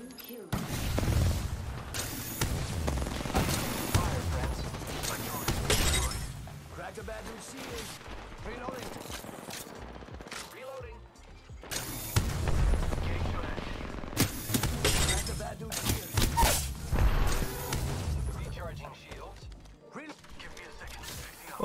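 Gunfire in an Apex Legends firefight: bursts of rapid shots and booming impacts in a loud, busy mix, with mechanical clatter and short pauses between volleys.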